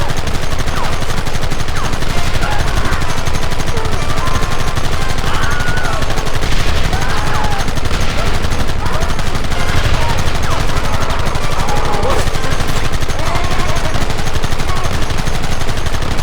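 Sustained gunfire and rapid volleys in the Western video game Red Dead Redemption, set around Blackwater in the Great Plains in 1911, loud and dense throughout with voices shouting over the shooting.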